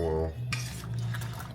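A spoon stirring a breakfast mixture in a bowl, a brief clink of metal on the dish followed by a few soft scraping strokes, close and quiet, with a steady low hum underneath.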